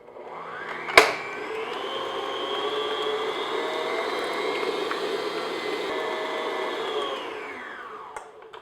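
An electric mixer beats butter into cream on medium speed, a steady loud whirring hum that starts with a clunk, holds for several seconds and winds down at the end.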